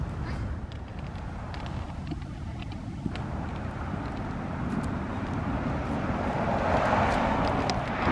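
Steady traffic on a big, crowded, busy road, a continuous broadband rumble of passing cars with wind buffeting the microphone, swelling slightly toward the end, no talking.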